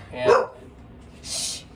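A dog gives a single sharp bark nearby, followed moments later by a brief airy hiss-like noise, with speech-like sound in the background.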